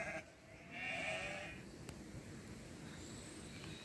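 A sheep bleats loudly and nearby, a drawn-out wavering call over a soft outdoor background.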